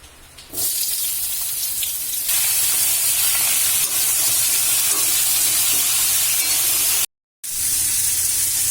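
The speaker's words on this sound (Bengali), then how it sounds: "প্রথমে আমি কড়াইতে তেল দিয়ে সবজিগুলোকে ভেজে নেব।" Teasel gourd, brinjal and potato pieces frying in oil in a wok make a close, constant hiss that grows louder partway through, stops for a brief moment, then carries on. No one speaks.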